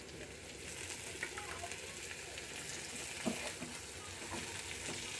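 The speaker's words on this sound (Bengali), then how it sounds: "শাকের জন্য এখানে পেঁয়াজ আর রসুনটা ভেজে নিচ্ছি" Onion and garlic frying in oil for a greens dish, a soft, steady sizzle with faint crackles and occasional utensil taps, quiet and close.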